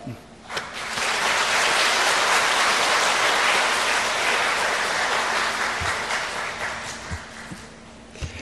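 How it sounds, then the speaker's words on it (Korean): Church congregation gives warm applause to welcome an elder to the front. Many hands clap in a dense roar that swells quickly, holds, then thins into a few scattered claps near the end. "장로님 오실 때 뜨거운 박수로 환영합시다."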